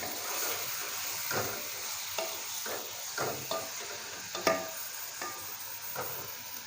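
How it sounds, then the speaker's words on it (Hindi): Chicken fries lightly in about two tablespoons of oil for a white chicken karahi. A soft, steady sizzle runs throughout, broken by regular scraping stirs from a utensil, with no talking. "चिकन को हल्का सा फ्राई कर लेंगे हम।"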